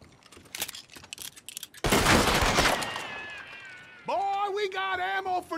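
Gunfire from Red Dead Redemption 2 trades back and forth in a Western standoff: a burst of sharp shots and a noisy blast, then ringing tones as men exchange words over the shooting.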